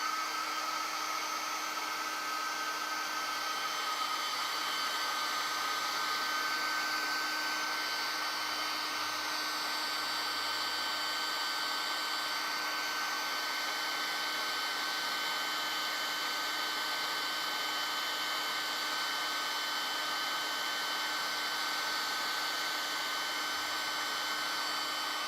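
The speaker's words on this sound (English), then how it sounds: "Hairdryer noise incoming!" A hair dryer blows steadily to dry paint on a tiny metal miniature figure, a loud, constant whooshing hum with a faint whine that stays unchanged for the whole stretch, no voices.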